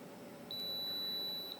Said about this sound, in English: once you hear that long beep, the reset is complete